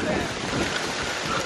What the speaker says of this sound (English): I don't know if you guys could even hear me talking right now because it's so windy